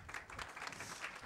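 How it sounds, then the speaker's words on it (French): An audience applauds a speaker named Lisa at a cosmetics-industry keynote conference, a short burst of steady, moderately faint clapping with no talk over it. "Et nous allons applaudir Lisa."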